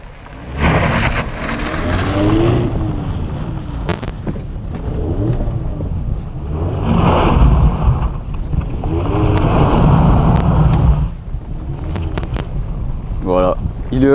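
A Mazda MX-5 RF sports car drifts, its engine roaring and tire and road noise surging in loud rushes, with a voice speaking over it.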